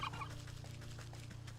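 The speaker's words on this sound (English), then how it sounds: "Had enough with the turkeys." Turkeys gobble in the video game Wytchwood, a faint, low, rippling burst of fowl calls over a steady background hum.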